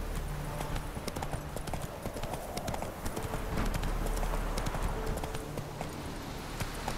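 Roach, the horse in The Witcher 3: Wild Hunt, trots with steady, close clip-clopping hooves over a continuous bed of low ambient rumble, the beat holding evenly throughout.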